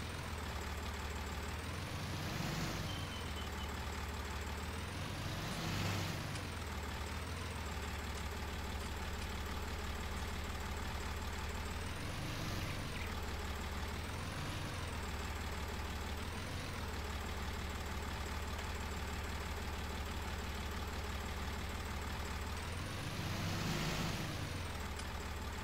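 A tractor engine in Farming Simulator 19 drones steadily at a constant low rumble, with periodic swells in pitch as it revs and drives, no talking over it.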